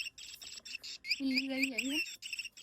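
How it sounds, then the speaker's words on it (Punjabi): A pet parrot gives a short run of calls: a few quick squeaky chirps, then a longer wavering whistled call with a shrill edge, close and clear in a quiet room. "ਆ ਤੋਤਾ ਬੋਲਦਾ ਹੈ"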